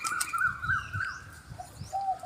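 Repeated low dove coos, soft and rounded, sound through a busy layer of bird chirps and whistles nearby.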